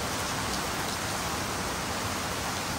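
Heavy rain pours steadily on a stormy morning, a dense, even hiss with no breaks, loud and close throughout.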